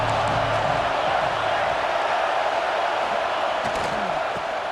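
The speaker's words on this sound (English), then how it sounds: "Decibels rising as the crowd gets behind this defense on 3rd down." Stadium crowd in the video game College Football 26 cheering on third down, a dense, steady roar that fills the whole stretch without letting up.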